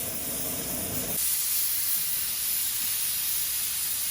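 Steady loud hiss of steam venting from a pressure canner holding potatoes, continuous and close, with a brief shift in tone near the start before settling into an even rush.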